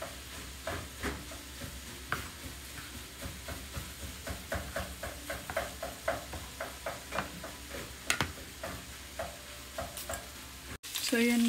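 Ground pork browns in a pan, a steady sizzle and fry broken by regular scraping and stirring strokes, with a brief louder clatter near the end.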